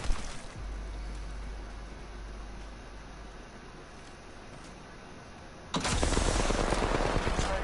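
Gunfire in the video game Apex Legends, a steady rattle of shots under a constant hiss, growing louder and harsher toward the end.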